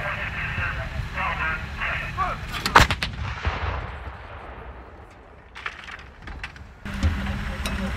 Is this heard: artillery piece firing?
yes